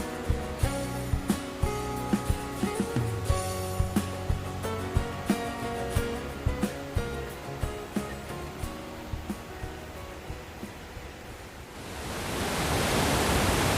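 Sri Dit waterfall, 30 metres high and 50 metres wide, rushes in as a loud, steady roar near the end, after a long stretch of rhythmic music.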